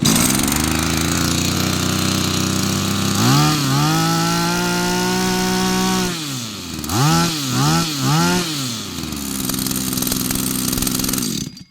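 A small engine on a pesticide sprayer machine pull-starts with a sputter, then runs at a loud, steady drone, revving up and down in several surges before settling into a constant idle, close by.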